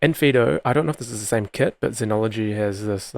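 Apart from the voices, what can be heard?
No everyday noises stand out.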